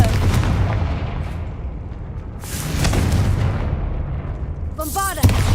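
Confringo blasting spells cast in combat in Hogwarts Legacy, booming bursts rolling through the fight, one swelling around the middle and a sharper crack near the end, with a voice and other game noise over them.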